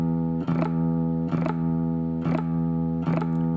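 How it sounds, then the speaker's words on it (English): A guitar's low sixth string rings out steadily while four soft strums or scrapes brush across it at even intervals, loud and close. "if I hit all the strings, you only hear the 6th string"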